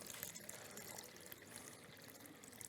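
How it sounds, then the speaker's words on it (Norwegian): Water is poured in a small stream into a container during a science demonstration on cakes, a faint steady trickle lasting a few seconds with no talk. "Vi kan begynne å helle litt grann."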